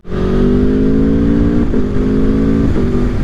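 An Aprilia Tuono V4 Factory motorcycle engine runs loud and close with a steady droning tone, briefly blipping the throttle twice before settling back.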